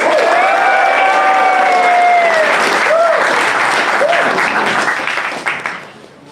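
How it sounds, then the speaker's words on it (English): A crowd at a Garage48 final event in Tashkent applauds loudly and steadily, with a few cheers and whoops over the clapping, which fades out at the end. "let's give a big applause to the Andres, our great mentor."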